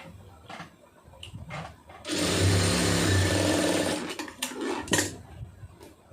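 A sewing machine stitches a blouse in a sustained two-second mechanical whir, close and fairly loud, framed by scattered handling clicks and rustles before and after.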